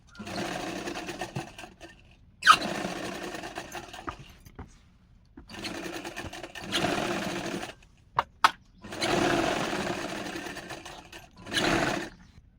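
A sewing machine stitching along a chalk marking on a boat-neck prince cut blouse, running in several bursts of rapid whirring, separated by quiet pauses and a few sharp clicks.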